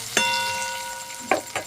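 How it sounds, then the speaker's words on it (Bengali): Potatoes fry in a pan with a steady, close sizzle, crossed by a few sharp metallic clinks of a utensil against the pan, and nobody talks. "দেখো আমার আলুটা কিন্তু লাল লাল করে ভাজা হয়ে গেছে"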